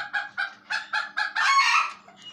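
A peacock calling loudly in the early morning: a rapid series of about six nasal, honking cries, close and clear, ending in one longer, drawn-out wail.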